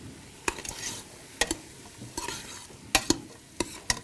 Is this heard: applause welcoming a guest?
no